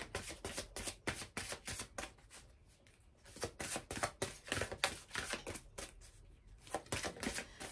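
A deck of Sufi wisdom oracle cards being shuffled by hand, a rapid run of close papery riffles and flicks with a brief pause in the middle before the shuffling resumes, with no voices.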